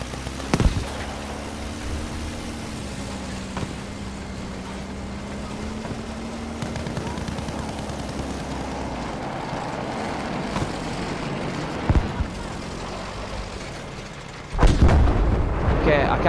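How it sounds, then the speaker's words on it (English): Heavy artillery-style explosions in a video game, a distant rumbling roar with a rising tone and sharp blasts, ending in a loud close detonation, with a faint voice underneath. "I can hear a fucking Kai missile coming in"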